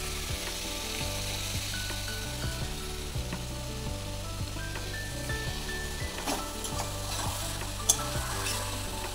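Potatoes and spices stirred and frying in a pan, a steady close sizzle with scraping strokes of the spoon repeating over a faint musical background, no talking.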